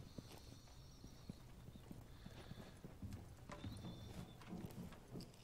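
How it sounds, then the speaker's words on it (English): Rapid, rhythmic footsteps in the Rainbow Six Siege video game, a run of close, quiet clopping steps that continues steadily throughout. "Can hear the footsteps."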